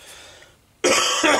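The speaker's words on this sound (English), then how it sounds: "Still got this tickly cough" A tickly cough bursts out loud and close, two quick rough hacks after a quiet moment.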